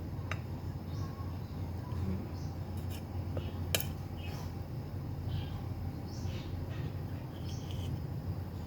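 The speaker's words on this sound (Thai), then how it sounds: "เสียงนกดังๆ" Several bright bird chirps and calls ring out over a steady low background hum, scattered irregularly and fairly close.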